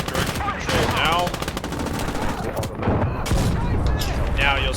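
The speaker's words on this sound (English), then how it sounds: "Now you'll see the MG is firing on its own." A tank's machine gun turret fires in the WWII video game Gates of Hell, rapid bursts of gunfire that rattle on and off over a few seconds with faint game ambience.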